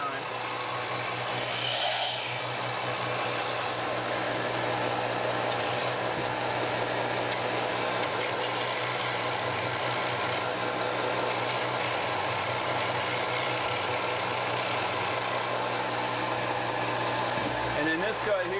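A power sander works across the top of an antique wooden table, giving a steady, loud whirring drone that runs almost without a break and shifts only slightly in pitch.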